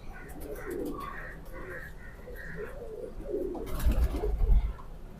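A pigeon held in the hand coos in low, soft, repeated notes close by, followed by a short burst of rustling and fluttering.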